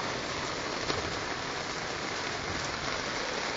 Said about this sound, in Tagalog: Sa bubong, dami nagtatalsikan na yelo.